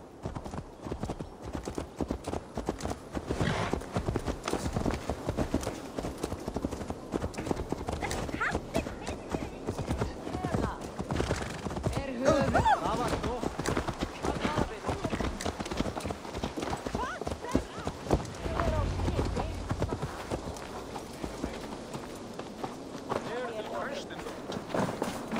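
Horse hooves clip-clop steadily in Assassin's Creed Valhalla, the rhythmic footfalls running close and constant beneath characters talking over game music for the whole stretch.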